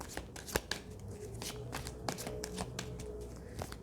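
Tarot cards, minor and major arcana together, are shuffled close up in a quick run of soft riffling slaps and taps with small sharp peaks, continuous throughout with no voice.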